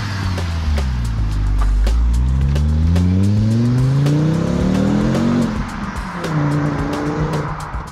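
A Ford Mondeo with a turbocharged five-cylinder engine and performance exhaust revs hard through several rising gear pulls, its loud, throaty warble climbing in pitch before easing off, with a faint squeal of tyres and no voices.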